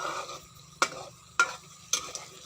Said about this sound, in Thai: ผัดน้ำมันนะคะ ใส่น้ำมันพืช